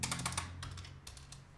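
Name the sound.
typing on Dell KM3322W keyboard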